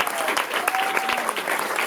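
Audience applause welcoming a speaker before a political talk, a brief dense wash of clapping from a seated crowd, steady and moderately loud with faint murmur beneath.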